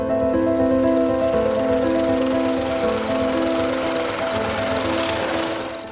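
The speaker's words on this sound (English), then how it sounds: "The stones are crushed by the widely used chan fra into small pieces until a fine sand is formed." A chanfa stone crushing machine grinds rock into fine sand at an illegal gold mine in Ghana, a loud, continuous mechanical roar with steady droning tones throughout and no voices.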